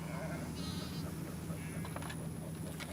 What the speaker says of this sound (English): Rounding up the sheep and getting them back into the pen and getting the fence back up